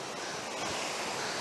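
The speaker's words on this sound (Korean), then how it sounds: "파도가 진짜 너무 장난 아닙니다" Surf surges heavily onto the shore at Songjeong beach after rain, a broad, loud rushing roar filling the short stretch without pause.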